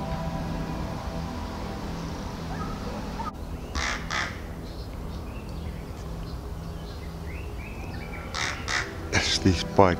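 Harsh pied crow caws ring out near the end over a steady outdoor rumble, with a few scattered calls earlier.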